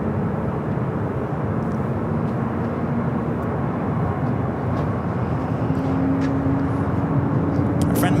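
A Southwest Airlines Boeing 737 MAX 8 jet at LAX makes a steady, broad engine roar that holds evenly throughout, with a faint tonal hum and some distant voices beneath it.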